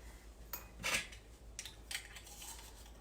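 A teaspoon and tablespoon measuring spoon set is handled close by, giving a few light clinks and rattles in short bursts within a quiet room.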